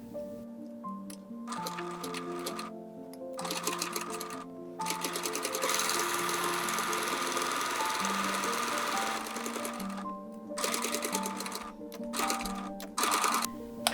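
A sewing machine stitching a quarter-inch side seam on doll overalls pants, running in close, loud bursts of rapid mechanical ticking with brief pauses between runs and one long continuous stretch in the middle.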